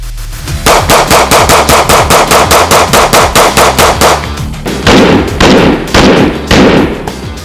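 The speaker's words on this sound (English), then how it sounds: "Let's go put a couple of rounds through her and see what our impressions are on the range." Rapid string of Beretta APX Centurion pistol shots at a shooting range, loud and close, in quick regular succession for several seconds with brief pauses, later shots sounding more spaced.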